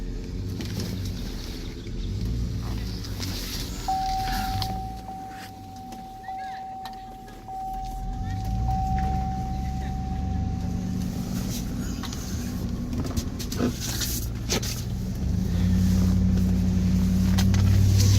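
A car on a test ride after detailing, its engine and road noise droning steadily inside the cabin, the rumble rising and firming in the final seconds as it picks up speed.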